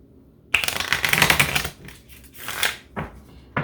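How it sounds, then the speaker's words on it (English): Tarot cards shuffled by hand, a close, loud riffling burst followed by a few shorter rustling shuffles. "Oh my god, that was an ugly shuffle"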